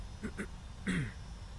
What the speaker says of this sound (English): Sorry for coughing